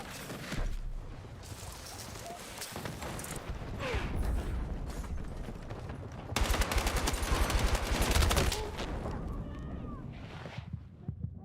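Battlefield 6 gunfire crackles in repeated rapid bursts of automatic fire with scattered single shots and mechanical clatter, loudest in a sustained volley near the middle, amid general combat ambience.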